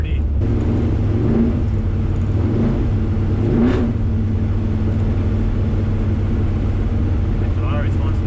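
A 1972 Chevrolet Camaro engine drones loud and close from inside the car while driving on the street, steady harmonic hum with a few brief swells as the throttle opens, voices talking faintly underneath.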